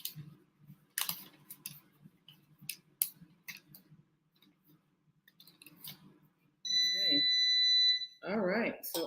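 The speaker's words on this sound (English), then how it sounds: "So our air fryer is warmed up. I had that for 5 minutes. It's making that annoying sound to let me know that it's ready." An air fryer signals it has preheated with a steady electronic beep tone lasting about a second amid kitchen clatter, followed by a person talking nearby.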